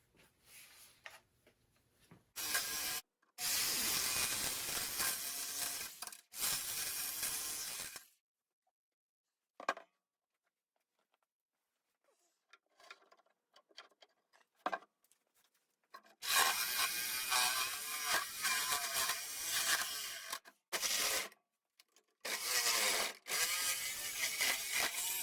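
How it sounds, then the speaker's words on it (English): A jigsaw with a very fine-tooth blade cuts a taped aluminum plate, loud buzzing bursts of several seconds broken by pauses and faint handling noises. "I'm going to use a jigsaw with a very fine tooth blade"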